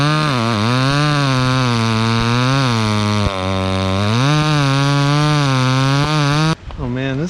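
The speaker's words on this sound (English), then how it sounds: "this saw is a little bit funky. Got some high rev issues." A chainsaw with high-rev problems bogs during a maple takedown cut, holding a loud, close, wavering whine whose pitch sags and climbs before it drops away near the end.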